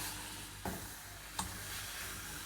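Liver and chicken gizzards go into hot fat and sizzle in a steady, quiet hiss. Two soft clinks of stirring break through the frying.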